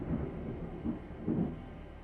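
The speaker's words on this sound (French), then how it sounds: "on entend très très bien l'orage a priori" Distant thunder from a storm outside rolls as a faint, low, continuous rumble with a few soft swells, heard from indoors.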